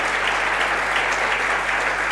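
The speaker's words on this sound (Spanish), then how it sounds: "Dele el aplauso al Señor, hermano." A church congregation applauds during a Sunday service, with dense, steady applause from many hands sustained loudly for the whole stretch and no pause.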